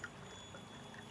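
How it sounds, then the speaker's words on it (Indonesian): Water from a river flows along a channel through a villa garden in Jogja, a steady soft pour and trickle, faint and continuous, with no voices. "Aliran ini dari sungai mengalir, nanti turun ke bawah ada air terjunnya."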